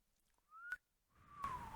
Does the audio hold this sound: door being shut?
no